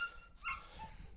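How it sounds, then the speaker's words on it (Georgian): A five-month-old female Caucasian shepherd puppy gives a short, faint bark with a whimpering yip, close but quiet, in one brief burst. "ის არის ხუთი თვის ლეკვი"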